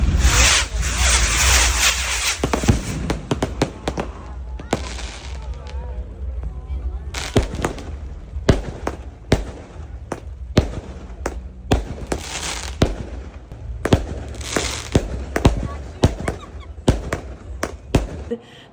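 A quinceañera fireworks show crackles and pops in rapid bursts, with a dense rushing volley at first, then irregular sharp bangs and crackles spread through the rest, fairly close and loud.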